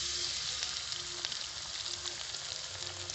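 Egg frying in a pan beside vegetables pushed to one side, a steady close hiss and sizzle throughout with faint occasional clicks.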